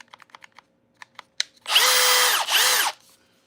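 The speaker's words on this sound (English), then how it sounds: "Would any of you guys want a Hyper Tough impact wrench, 12 volt?" A Hyper Tough 12-volt impact wrench on its low setting gives two loud, sustained bursts lasting about a second each, coming after a few quiet clicks and taps, with no talking.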